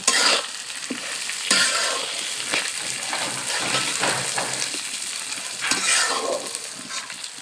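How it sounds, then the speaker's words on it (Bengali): Close, busy sizzling of lentils frying in a pan, broken by repeated scraping stirs of a spoon against the metal. "ডালগুলো দিয়ে ভেজে নিব ডালগুলোকে সুন্দরভাবে ভেজে নিব"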